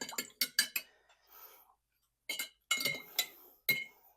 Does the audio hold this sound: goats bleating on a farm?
no